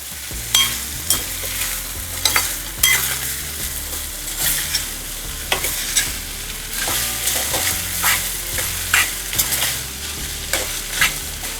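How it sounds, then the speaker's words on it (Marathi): Grated potato stir-fried in a kadhai, a steady sizzle broken by repeated scraping and stirring strokes of a spatula against the pan, close and fairly loud with no talking. "कुठलीही कढई असली तरी बटाट्याचा किस हा बटाट्याचा गुणधर्मच असा आहे की तो चिकटतो त्याच्यामुळे तो थोडा सोडवत राहावा लागतो"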